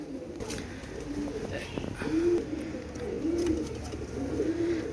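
A male Shalara teddy pigeon coos in repeated low, rolling phrases, about four evenly spaced calls, close and moderate in level over faint background noise.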